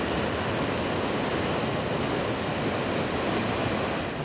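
Rushing floodwater of a swollen river, a dense, constant roar of churning water, loud and unbroken throughout with no voices.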